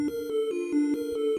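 A bling blang synth preset in Massive for a trap beat sustains a buzzy, bell-like tone that shifts pitch between a few notes with soft rhythmic accents, heard alone.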